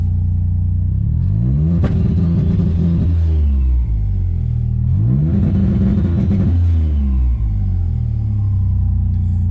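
A Subaru Impreza engine revs hard twice, climbing quickly and bouncing against the rev limiter with a stuttering rumble before dropping back to idle.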